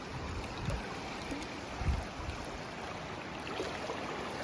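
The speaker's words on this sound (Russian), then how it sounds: "Вот это течение бешеное." Fast river current in the Komi Republic near Ukhta rushes in a steady broadband wash with faint knocks, continuous and fairly close, with no voices.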